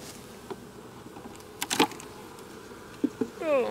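Honey bees buzz around an opened hive as honey frames are sorted. The dense insect drone runs throughout, close by, broken by a few sharp knocks and clicks of frames being handled.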